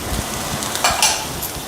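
Beans, cabbage and green chili sauté in a pan with a soft, steady sizzle, broken by a few light scrapes and clinks as the vegetables are stirred.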